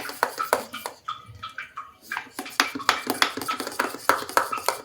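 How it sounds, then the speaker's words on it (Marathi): Rose-flavoured lassi being mixed in a steel vessel at close range, with irregular clinks and scraping knocks of a spoon against the metal and soft liquid swishing, alone without talk. "आता मिक्स करून घ्यायचं आहे."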